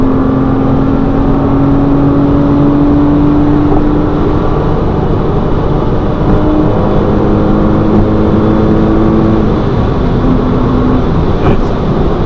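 A Porsche Cayman engine revs hard above 5000 rpm while driving, a loud, steady drone with a rising tonal whine, close and continuous with no talk over it.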